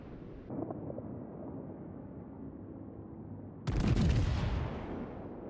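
A single heavy naval gun blast booms out in World of Warships, a sudden loud burst with a rumbling tail that cuts through a low steady wind-like background hum.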